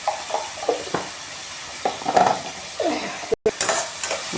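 Onions and tomatoes are stirred and sautéed in a pan while cooking potato thokku, with short scraping stirs and a soft sizzle in irregular bursts, close and fairly quiet.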